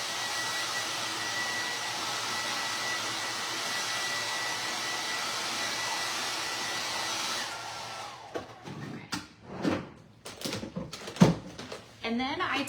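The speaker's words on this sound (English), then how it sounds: "I'm gonna hit the hair dryer on it so it will get off all the extra" A hair dryer blows a steady, even whoosh over a beach-themed craft tray to clear off the excess, running for several seconds before it cuts off and gives way to handling clatter and knocks.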